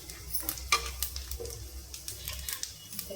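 Peanuts dropped into hot oil with cumin in a pan, a soft sizzle under quick stirring and light scrapes of a spoon against the metal, close and fairly quiet.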